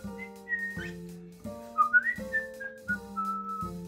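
A man whistling a repeated melodic phrase to a pet bird, clear bright notes in short rising and falling runs over a low steady background tone, near and alone.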